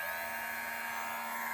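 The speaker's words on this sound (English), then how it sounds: "Now vacuum is activated." Vacuum beard trimmer running with its vacuum suction switched on, a steady, close motor whine with a constant buzzing tone and no pauses throughout.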